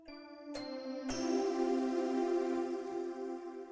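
A soft synthesizer bell pad preset, Heavenly Bell Pad from the Xpand 2 virtual instrument, swells in with shimmering, sustained tones, layering chimes over a warm held chord that rings on steadily.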